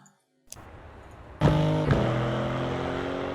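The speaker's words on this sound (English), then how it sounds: "Let's have a listen to this car from the outside as well, just for a moment." Race car engine in Assetto Corsa EVO, heard from an outside view: a sharp onset into a loud, steady engine drone with a strong harmonic whine, a brief pitch change partway, then a sustained hold without speech.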